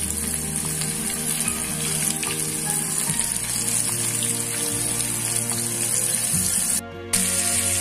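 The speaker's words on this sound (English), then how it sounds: "The chicken pieces are frying." Continuous crackling sizzle of flour-coated chicken pieces shallow frying in hot oil, steady and close, with a brief dip in the noise near the end.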